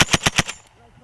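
Short, close burst of military machine gun fire from British Army Royal Gurkha Rifles soldiers in combat training: four or five rapid, loud shots in a tight, even rhythm, then a quick fade into quiet.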